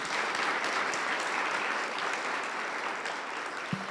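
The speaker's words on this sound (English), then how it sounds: "So Todd, Adler, and Sheree, let's give them another round of applause." Sustained audience applause at an innovation showcase event, many hands clapping steadily at moderate volume for the full few seconds, with no voices over it.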